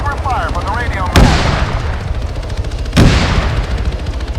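Gunfire in the ARMA 3 Apex military game: two sharp, loud shots about two seconds apart ring out over a steady engine-like rumble, with a brief warbling tone near the start.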